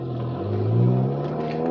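Volkswagen MK7 in first gear with traction control off, engine note rising steadily as it accelerates, a continuous close revving drone with climbing harmonics and no talk.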